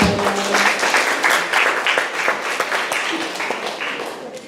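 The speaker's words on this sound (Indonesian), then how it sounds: "Tepuk tangan sekali lagi dong." An audience at a school musical drama performance claps again on request. The applause is moderately loud and uneven, with close individual claps and some brief background sounds, and it tapers off gradually.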